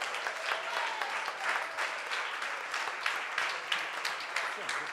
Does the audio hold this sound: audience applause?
yes